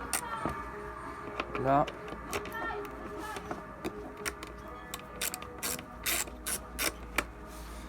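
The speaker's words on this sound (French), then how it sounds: "pour l'enlever maintenant on a juste à défaire ces petites vis" Small screws being undone on a BMC sport air filter, close, irregular metallic clicks, scrapes and brief squeaks of a screwdriver working, with a short spoken word.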